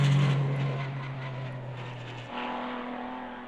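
TVR T400R race car in Automobilista 2 sim racing, a steady mid-pitched engine drone at moderate distance that drops and shifts tone partway through, with no talk.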